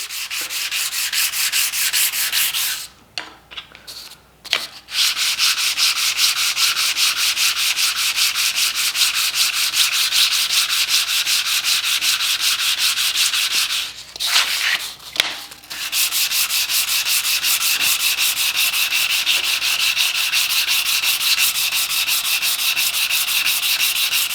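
Knife handle material is rubbed flat by hand on sandpaper in a loud, continuous, rapid back-and-forth rasp, with two short pauses and no talking.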